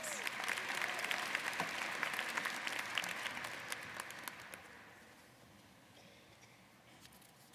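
Audience clapping for PhD graduates at a Michigan Ross business school commencement ceremony, a dense, sustained round of applause that is loud at first and gradually thins and fades over several seconds.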